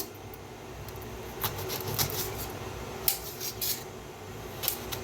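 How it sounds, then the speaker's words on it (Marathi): Quiet kitchen cutting: a knife trims the stem and slices eggplant lengthwise with a few sharp clicks against a board, irregular and close, with no talking. "आता वांगी कापून घेऊया"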